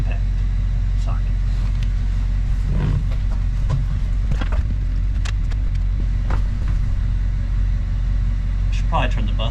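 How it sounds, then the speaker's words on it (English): A bus engine idles in a continuous loud low rumble with scattered clanks and knocks, with someone talking over it. "I should probably turn the bus off now."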